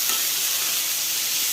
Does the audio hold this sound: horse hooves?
no